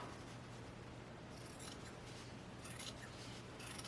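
Scissors trim fabric for a handmade journal cover, with soft, quick snipping rustles over a faint background hiss.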